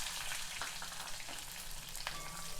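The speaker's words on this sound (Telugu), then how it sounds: "ఇవి కొంచెం వేగనివ్వాలి." Chopped onion and four green chillies with mustard and cumin seeds fry in a pan, a soft steady sizzle with faint crackles and occasional stirring.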